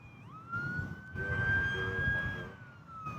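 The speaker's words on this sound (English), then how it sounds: "There is a fire truck and an ambulance." A wailing fire truck and ambulance siren holds a long, slowly rising tone over a low rumble of traffic, fairly loud and steady throughout.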